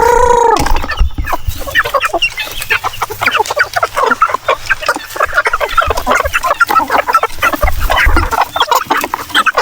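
Native chickens on a farm cluck in a dense, continuous chorus, with many overlapping calls packed close together from start to finish. The birds are hungry and excited, and the flock sounds near and loud.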